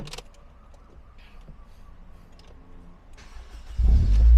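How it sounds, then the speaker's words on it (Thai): Quiet background rumble with a few faint clicks, then a 2005 Honda Integra DC5 Type R engine cranks and catches near the end, roaring up loudly close by. "อามาขออนุญาตสตาร์ทเครื่องเลยแล้วกันนะ"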